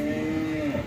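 PO cattle at the Prambanan cattle market, a single sustained low moo lasting under a second, close and fairly loud against the market background.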